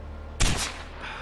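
Gunfire in the video game Far Cry 4 bursts in suddenly as a single loud burst of shots, then its echo trails away into a softer background.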